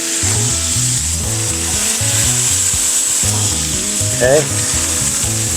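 Beef and sausage smash burger patties sizzle loudly on a griddle, a close, continuous frying hiss with a spatula scraping in the background, and a voice speaks briefly.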